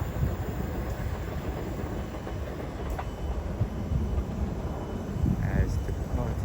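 A Southeastern passenger train, the 09:50 service to London Victoria, pulls away from Orpington station on the South Eastern Main Line, giving a steady rumbling roar of moderate loudness throughout.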